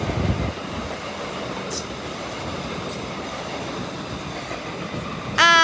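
A Class 387 electric train runs past at Royal Oak Junction with a steady, loud rumble of wheels on rail, a brief squeal partway through, and a sharp high squeal of wheels or a horn-like tone rising at the very end.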